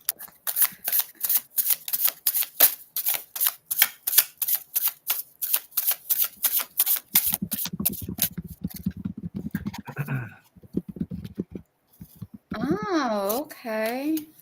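Tarot cards shuffled by hand, a fast string of crisp riffling snaps up close, followed by lower rustling and brief talk near the end.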